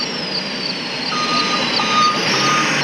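An SMC bus reversing, its warning beeper sounding a steady run of high repeated beeps over a loud, continuous engine and road rumble close by.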